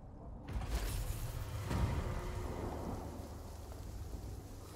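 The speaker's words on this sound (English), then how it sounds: "It's raining too much." Heavy rain outdoors with rumbling thunder, a continuous dense hiss of downpour under low rolling booms, fairly faint and distant, with no talking.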